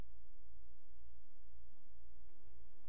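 A computer mouse gives a few faint, sparse clicks, spaced irregularly over a quiet background hiss, with no talking.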